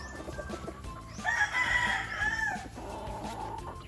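A straight-comb Kelso gamefowl rooster crows once at a gamefowl farm, loud and close, in a drawn-out call lasting about a second and a half, with faint clucking and farmyard background around it.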